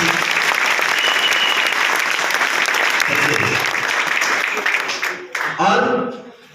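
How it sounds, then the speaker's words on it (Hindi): Loud, sustained applause from a seminar audience welcoming two new guests, dense clapping that fills about five seconds before tapering off, with some voices mixed in near the end. "चलिए हमारे नए दो अतिथियों के लिए जोरदार वाली ताली।"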